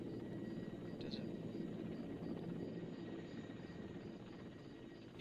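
Helicopter flying overhead in Arma 2: Operation Arrowhead, a faint, steady rotor drone with low chopping texture that continues throughout, alone without talk.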